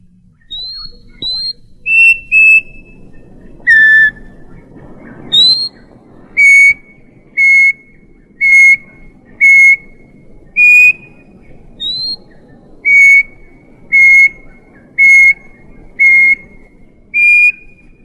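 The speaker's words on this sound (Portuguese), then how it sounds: "O papa-formigas o desperta completamente do semitorpor em que você se achava envolvido." An antbird calls: a series of clear, evenly spaced whistled notes, each a short pure tone repeated steadily, loud and close against a quiet background.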